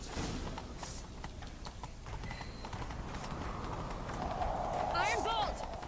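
A horse gallops in The Witcher 3: Wild Hunt, a steady clip-clop of hooves running beneath voices speaking, with a brief whinny-like cry rising near the end.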